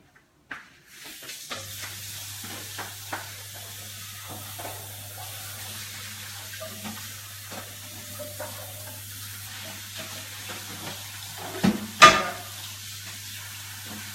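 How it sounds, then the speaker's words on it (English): Freshly boiled rice strained and rinsed under a cold kitchen tap: steady running water pours for several seconds beneath a low hum, with a louder clatter near the end. "and rinse it with cold water."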